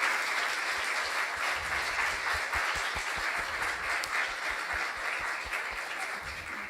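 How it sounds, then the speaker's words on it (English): Steady audience applause after a spiritual class at a live San Francisco gathering: many hands clapping continuously at an even level throughout, with no talk over it. "Let's give a round of applause for Maharaj's class."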